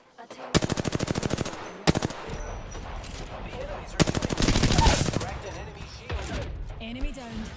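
Sustained automatic gunfire in Apex Legends, two long rapid bursts of rattling shots, close and loud, with a voice speaking over the battle noise between volleys.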